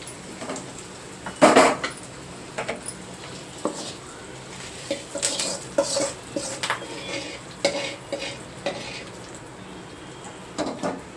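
Steel utensils clank and scrape as a hot tempering with curry leaves is poured from a pan into mint chutney and stirred, giving a loose series of close, sharp metallic knocks and clinks with no talking.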